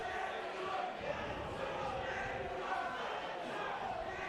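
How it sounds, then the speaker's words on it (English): A loud, vocal crowd at a night rugby league match between London Skolars and Hunslet at New River roars and chants continuously in the background beneath a commentator's voice. "Very vocal and noisy crowd here in the New River tonight"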